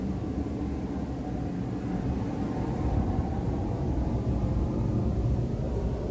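Airplanes passing overhead give a steady, broad low rumble that holds at an even level throughout, with no voices over it.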